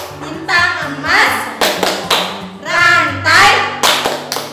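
Children clapping along to a rhythmic chant for memorising the Pancasila symbols at an elementary school, voices chanting with sharp hand claps and taps falling in a steady beat.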